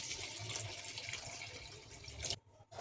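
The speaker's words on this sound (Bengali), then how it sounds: "এবার পরিমাণ মতো জল দিয়ে দেবো।" Water poured from a tap or jug into a pot of browned mutton curry, a steady splashing rush that runs on for over two seconds before stopping abruptly.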